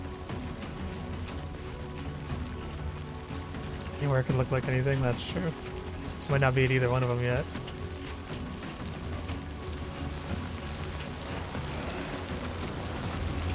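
Heavy rain in the video game Death Stranding 2, a dense continuous hiss of downpour that carries throughout, with someone talking briefly over it in two short bursts.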